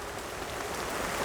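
Steady rain falling outdoors, a soft continuous hiss of drops with no distinct events, fairly faint and without voices.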